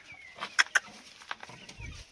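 A couple of native village chickens cluck in short, sharp bursts close by, followed by quieter scratching and rustling sounds.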